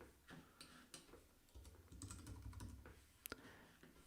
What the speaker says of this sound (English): So we can just begin typing.